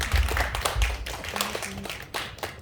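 Applause breaks out from a youth worship congregation at a church award ceremony: a dense run of quick, close handclaps fills the moment, with a brief sustained voice tone partway through.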